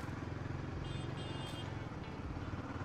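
A Royal Enfield Guerrilla 450 motorcycle accelerates in second gear with light throttle, giving a steady, close engine drone with low thumping pulses throughout.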